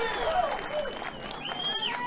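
A crowd at a sports match cheers and applauds, a loud, close roar of voices and clapping that carries through the whole two seconds, with whistles or shouts rising above it.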